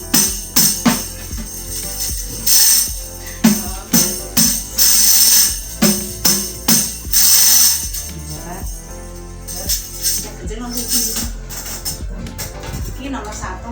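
Rebana frame drum fitted with metal ser jingles, struck in bursts of bright jangling shimmer with hand hits, mixed with a voice talking.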